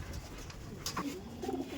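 Andhra pigeons give a short, quiet cooing call against low background noise, close by and without voices.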